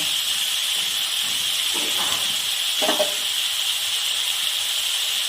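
Spices hitting ridge gourd and potatoes frying in a pan, a constant bright hiss with two short bursts of added sizzle, close and with no talk.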